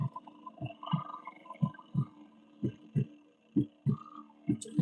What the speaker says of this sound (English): Straight up the heartbeat